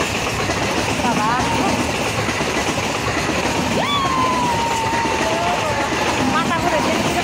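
A train approaches along a railway line, its steady rumble and wheel clatter filling the scene, with brief horn-like tones and people talking over the noise.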